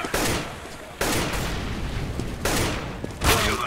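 Heavy booming blasts, likely a grenade explosion, punch through a competitive CS:GO match at ESL One Katowice 2015, several loud broadband hits arriving over about four seconds with dense rumbling tails.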